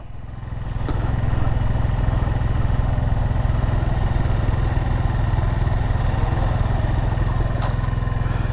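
Honda Monkey motorcycle pulling away from a stop, its small engine rising to a steady, loud, throbbing chug with a rapid even firing rhythm and no talk.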